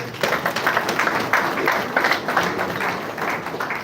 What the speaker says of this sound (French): Sous nos applaudissements, s'il vous plaît.